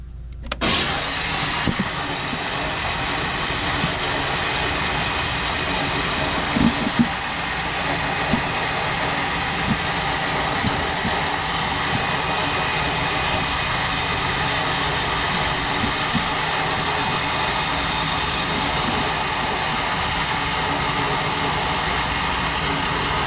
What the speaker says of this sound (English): So turn the recovery winch off